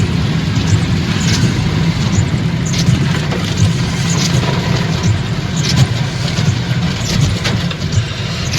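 A car engine drones steadily while the vehicle drives through floodwater in the middle of a road, a loud continuous low rumble with wash and spatter from the tires, and no talking.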